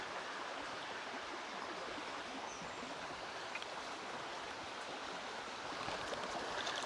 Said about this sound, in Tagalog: So bali yan yung creek.